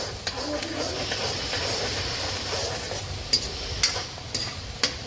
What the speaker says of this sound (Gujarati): ડુંગળી થોડી આપણે બહુ લાલ નહીં પણ થોડી ચડવા દેવાની.